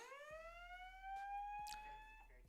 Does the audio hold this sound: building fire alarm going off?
yes